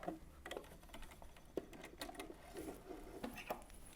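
A sewing machine back stitching a skirt seam ticks and clicks softly and close, with short irregular stitching taps over a low hum.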